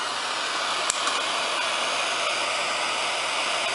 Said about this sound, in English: And I'm going to take a simple torch